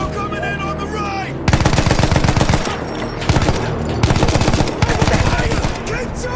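Gunfire in the Battlefield 1 mission Storm of Steel: loud, dense volleys of rapid automatic and rifle shots in continuous bursts, with brief lulls and a voice faintly under the opening.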